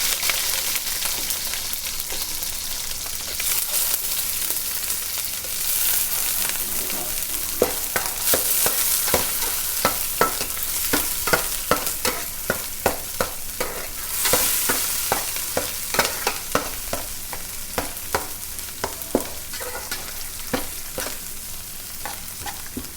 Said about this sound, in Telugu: ముందుగా మెత్తళ్ళు వేసి ఫ్రై చేసుకుందాం